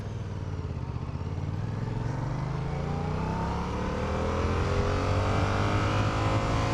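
A motorcycle being ridden, its engine droning steadily and climbing in pitch as it accelerates through a gear, loud and close with a constant rushing background and no talking.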